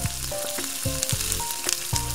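Potato pieces frying in a pan with bright sizzling and sharp metallic clinks of a spoon against the pan at irregular intervals, close and steady, no talking.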